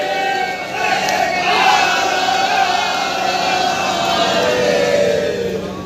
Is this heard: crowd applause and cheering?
yes